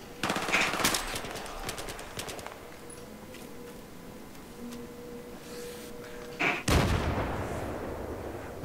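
UMP submachine gun fire in the video game Battlefield 3 rings out in rapid bursts at the start and again near the end, with a quieter stretch of game ambience between.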